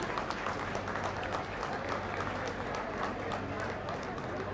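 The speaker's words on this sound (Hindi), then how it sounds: "तालियां लगातार होती रहनी चाहिए" Audience applause at a flyover inauguration ceremony in Ranchi: dense, steady clapping from a large crowd fills the whole stretch, loud and continuous with a low hum beneath.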